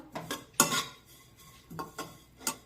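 A spatula scrapes and clinks against a pan as desiccated coconut roasts over a low flame, with several distinct, fairly close strokes separated by short pauses.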